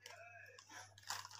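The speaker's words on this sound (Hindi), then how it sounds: "तो गाइस मैं खाने जा रहा हूँ कुरकुरे।" Crunchy Kurkure snack bitten and chewed close up, a few crisp crunches in quick succession over a low steady hum.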